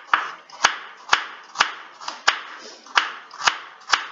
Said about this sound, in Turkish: havucumuzu şöyle küçük küçük